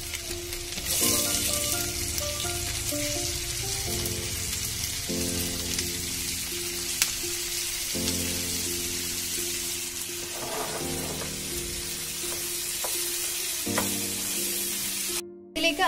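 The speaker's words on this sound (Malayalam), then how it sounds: "ഇനി ഈ എണ്ണയിലേക്ക് തന്നെ കുറച്ച് ഇഞ്ചി വെളുത്തുള്ളി ഇട്ട് കൊടുക്കാം." Ginger, garlic, onion and capsicum sauté in oil with a continuous crackling sizzle and occasional stirring, steady throughout under background music.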